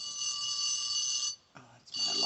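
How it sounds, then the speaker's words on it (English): A high, electronic alarm beeps loudly and steadily, cuts out briefly, then starts again, with a faint voice heard during the break. "Oh, that's my alarm."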